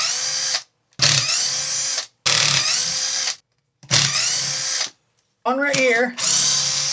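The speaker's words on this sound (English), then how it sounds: "we're going to want to take out these 4 bolts here." Power driver backing bolts out of a Tekno MT410 RC truck: four loud, whirring bursts of about a second each, separated by short gaps, with someone speaking briefly near the end.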